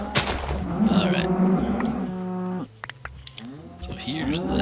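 A cow in the Minecraft video game moos in a drawn-out low call near the start of the clip, heard alongside game sounds and other effects, with a voice speaking over parts of it.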